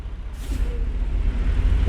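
Air brakes on a truck in American Truck Simulator release with a sharp hiss that fades into a steady low engine rumble, loud and close.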